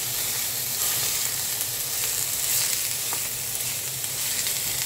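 Ground beef browning in olive oil in a pan, a loud, steady close sizzle with occasional crackles and pops, no talking over it.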